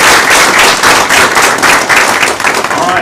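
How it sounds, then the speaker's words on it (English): A school board meeting audience gives teachers a big round of applause: loud, dense, steady clapping fills the room from start to finish, with faint voices mixed in. "So we can give them a big round of applause and then invite them up."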